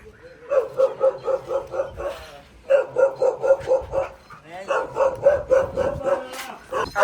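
Several dogs bark in rapid repeated bursts at a dog fight, close and loud, with yips and brief pauses between volleys and some background voices.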